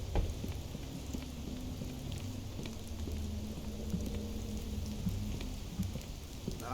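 Steady rain falls in the Ironbark Lookout level of the horror game Fears to Fathom, a dense continuous patter with a few brief sharper ticks throughout.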